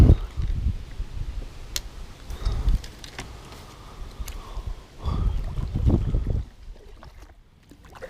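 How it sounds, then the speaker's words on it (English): Wind gusts buffet a small fishing boat out on an Iowa lake, rising and falling in a rough low roar with brief louder surges, with no one talking. "The wind's just messing up this stuff."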